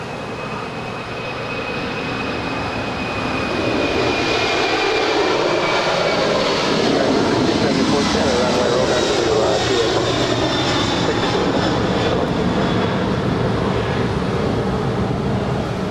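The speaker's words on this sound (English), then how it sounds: "That is Qantas Freight 7552 departing to Honolulu. It's a 747-400 freighter." A Qantas Freight Boeing 747-400 freighter departs LAX, its loud, steady jet roar building over the first seconds and then holding strong and broad, with no voices over it.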